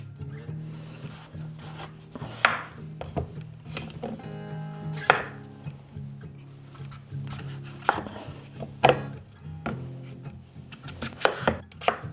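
A knife chops food small and thin on a board in irregular bursts of crisp, sharp taps, close and moderately loud over a low steady hum, with no talking.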